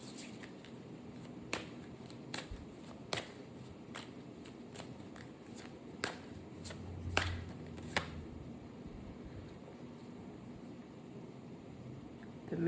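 Quiet tarot card shuffling, with a string of soft, sharp snaps and riffles spaced irregularly over a faint room hum.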